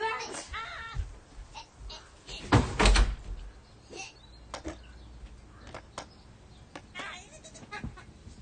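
A door thuds shut in the Minion Rush mobile game, one heavy slam midway through busy game effects that include bleat-like cries, with a voice speaking over it.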